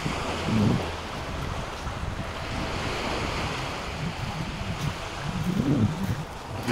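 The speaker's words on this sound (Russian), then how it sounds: "А море, море." Sea waves breaking on a beach in Alanya, a continuous broad wash of surf with wind noise buffeting the microphone, swelling at the start and again near the end, heard alone without talk.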